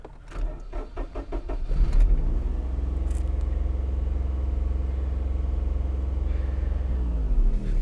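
An old, abandoned Daihatsu car, just jump-started, cranks with a rhythmic starter chug and then catches into a loud, steady low idle that rumbles close by with no talk.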